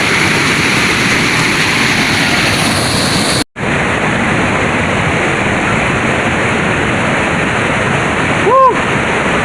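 Curug Leuwi Hejo waterfall in Sentul, Bogor, with green-blue water, gives a steady, loud, broadband rush of falling water that fills the whole clip, broken only by a brief cut near the middle.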